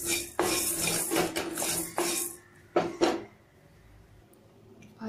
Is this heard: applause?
no